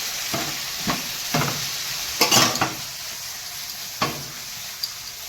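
Butter garlic mushrooms cooking in a pan, with a steady soft sizzle and several scraping stirs of a utensil against the pan, a cluster of louder clinks partway through, no talking.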